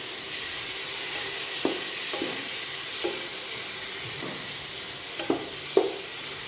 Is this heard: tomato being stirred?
yes